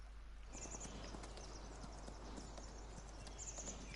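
Video-game horse galloping in Farming Simulator 19, rapid repeated hoof clip-clops with a low steady hum underneath, faint and continuous, with a brief whinny-like chirp.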